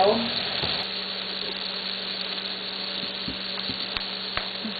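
Fajita meat sizzles in a frying pan, a steady close crackle with a few sharp knocks of the pan or utensils near the end.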